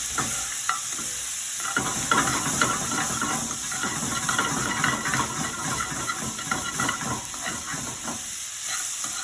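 Lemongrass curry paste frying in a pan for coconut chicken curry. A loud, close, continuous sizzle and hiss is broken by rhythmic scraping as the paste is stirred.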